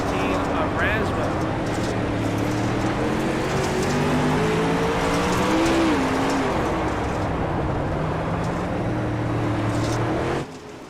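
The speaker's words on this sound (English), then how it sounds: "the throttle work of your race leader right now, the 18 of Braswell" The race leader's car, the number 18, in an All-Star Racing Series event at Lanier, with the engine droning loudly and steadily as its pitch rises and falls under the throttle, while a commentator talks over it.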